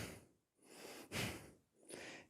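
Short breathy exhales during yoga core pulses on a mat, three soft puffs of air in a steady rhythm, close and fairly quiet with no talking.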